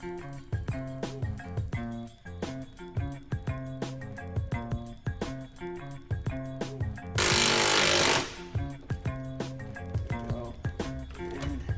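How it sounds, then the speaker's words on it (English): Impact wrench driving a bushing puller on an E36 BMW M3, close and loud: repeated short runs of rapid rattling hammering separated by brief pauses, with one sharp burst of hissing partway through. "I'm gonna go ahead and just use the impact, hold the puller to kind of control it"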